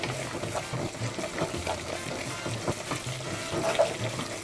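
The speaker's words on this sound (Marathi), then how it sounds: "आनी हितून कंटेनरान कितें चून उरला तें उदक आमी हितून रिन्स करूया आनी हितून घालया." Water swishes in a masala container and splashes into a pan of frying spice paste for Goan patal bhaji, a soft running-water wash over a steady low sizzle, moderately close.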